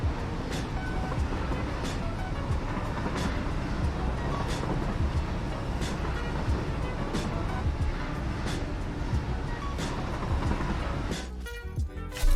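A train runs in the factory-building video game Satisfactory, a steady rumbling roll with regular rhythmic clacks about every second, ending in a brief change of sound near the end.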